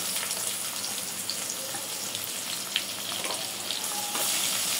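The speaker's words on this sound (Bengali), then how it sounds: "এর ভিতরে আর একটু তেল দিয়ে দেবো, পেঁয়াজ দিয়ে দেবো।" Onion frying in oil for a hilsa fish curry with taro stolons, a dense, loud, continuous sizzle close up, with a faint clink or two and no talking.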